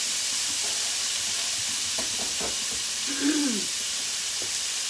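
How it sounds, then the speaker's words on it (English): Shrimp going into melted butter in a pan, a steady hiss of sizzling with a few stirring scrapes, close, quiet and with no talk. "we're going to throw this shrimp in here"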